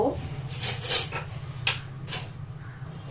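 A mixer grinder bowl is handled in a kitchen, with a few quick clinks and scraping knocks of hard metal and plastic up close, separated by short pauses over a low hum.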